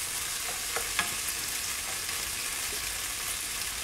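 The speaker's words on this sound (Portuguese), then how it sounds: "O alho já está pulando que nem pipoca" Garlic frying in olive oil in a pan with olives added for a veggie puttanesca sauce, a continuous sizzle with scattered small pops and crackles.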